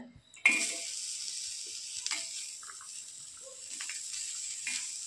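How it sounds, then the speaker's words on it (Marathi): A steady sizzle starts abruptly as finely chopped onion hits a hot griddle, with occasional soft clinks and scraping of a utensil over the continuous frying hiss. "त्यासाठी आपण आता बारीक चिरलेला कांदा तव्यावर टाकूया।"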